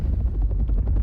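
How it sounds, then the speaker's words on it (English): A helicopter in a played video throbs close and loud with a continuous rhythmic rotor chop over a deep engine rumble, with no talking over it. "Helicopter."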